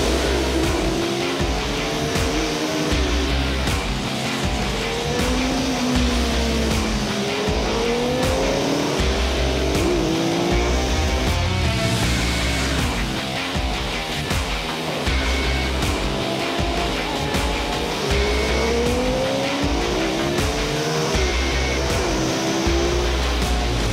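Loud racing engines of a Ducati 998S and an MV Agusta F4 750 scream through corners on a mountain road, revs rising and falling as they brake and accelerate, one after another, with no talking.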